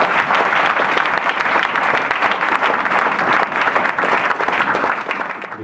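Church congregation clapping enthusiastically during a thanksgiving service, dense sustained applause filling the room without a break.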